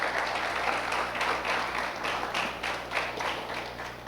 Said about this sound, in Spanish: Den un aplauso al Señor si puede.